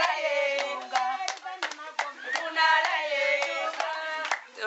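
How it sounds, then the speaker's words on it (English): Rhythmic hand clapping keeps time under group singing of a Dagbani song in northern Ghana, sharp claps repeating steadily beneath the voices. "So they clap their hands as they sing."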